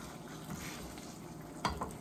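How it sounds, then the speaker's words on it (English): Soft, steady sizzling of an egg frying in a pan, close by, with a brief scrape or clink near the end. "I hate when I'm frying an egg like this"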